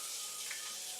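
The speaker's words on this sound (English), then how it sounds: "It's sizzling!" Bacon sizzles on a cooking surface with a steady, soft, broadband hiss that is close and unbroken, and no one speaks.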